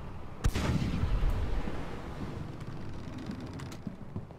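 A single loud, close grape-shot cannon blast from a ship in the naval game Blackwake, followed by a rumbling, wind-swept tail that carries on for several seconds.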